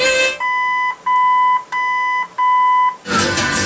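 A 1947 Ford original AM radio in balance mode beeps in four even pulses of a clear electronic tone, loud and close, with rushing noise just before and after.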